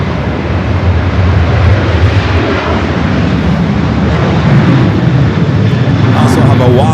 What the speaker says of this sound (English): Air France, flight 21 heading back to Paris, now started its taxi